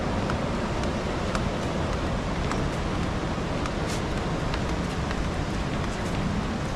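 Steady broadband rush of river water near the Old Bridge in Ronda, Spain, flowing past continuously at close range with no voices, a constant roar like surf.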